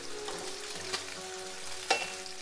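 Fish fillets frying in a pan, a steady, moderate sizzle with a couple of brief louder crackles and no talking.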